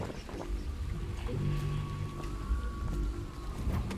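Light drizzling rain in the video game Dishonored, a soft steady patter with faint tonal ambience and a low hum underneath, no voices.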